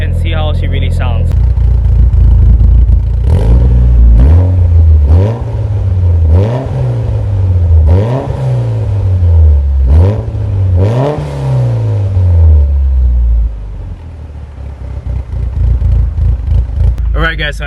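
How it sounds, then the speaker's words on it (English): A Mitsubishi Evo 8 with a downpipe and HKS sport exhaust revs repeatedly from idle, each blip climbing sharply then falling back in a regular rhythm, loud and close, before settling to a rumbling idle. "we're gonna rev up the car and see how she really sounds"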